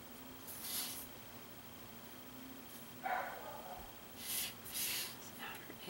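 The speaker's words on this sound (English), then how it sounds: "Excuse my dog barking. She is downstairs" A dog barks from downstairs in a house, a few muffled, distant bursts spread out over several seconds against a quiet room.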